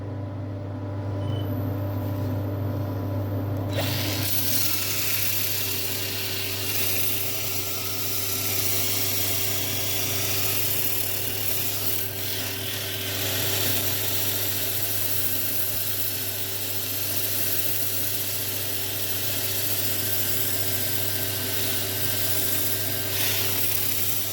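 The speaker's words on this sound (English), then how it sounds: "We'll do a little bit of power sanding." A power sander on a White Mallee burl bowl makes a steady electric motor whir with a low mechanical drone, continuous and fairly loud throughout, after a short quieter start.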